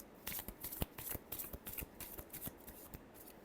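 Tarot cards are shuffled by hand in a quick, close series of crisp riffling flicks and slaps, quiet and alone without any talking.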